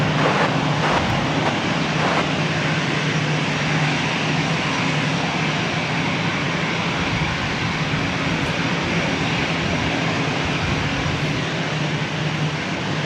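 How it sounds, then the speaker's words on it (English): Delta Airlines Airbus A321 jet taking off from runway 24 right at LAX: a loud, steady, broadband engine roar sustained throughout, heard from fairly close with no talking. "This is Delta Airlines 914 taking off to Minneapolis on an A321"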